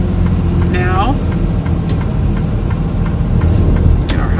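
Car engine running steadily on a mountain hairpin road while the driver holds manual control of the shifting and engine braking, a constant close drone with a few brief pitch sweeps, under occasional talk.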